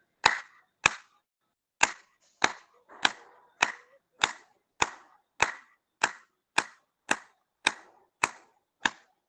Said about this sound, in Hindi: और बजा लेते हैं ताली।